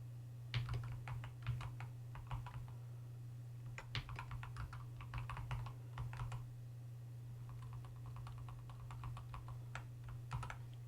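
Bursts of quick keyboard typing, clicking in irregular runs with short pauses, close up over a steady low electrical hum.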